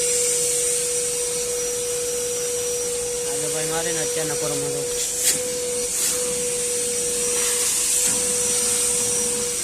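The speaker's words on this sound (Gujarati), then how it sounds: "આ જો મશીન છે વેક્યુમ મશીન" Vacuum machine at a car service station cleaning a Mahindra Thar, a steady loud whining drone with a high hiss running throughout, while someone talks briefly over it.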